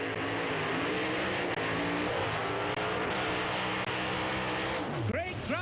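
A Top Doorslammer drag racing car does a short, sharp burnout at the Castrol Westernationals, a loud, continuous, close engine roar with tyre noise that surges near the end.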